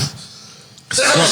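A single sharp sneeze bursts out loudly and close after a quiet moment, with a breathy intake just before it.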